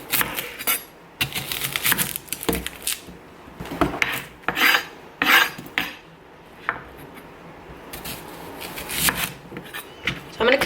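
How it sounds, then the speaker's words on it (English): Squash, broccoli and other vegetables are chopped for a vegan curry: a run of uneven, close knife strikes and scraping rasps on a board, irregularly spaced, with brief pauses between bursts. "I'm just gonna chop up all the veg and put it in a big pot"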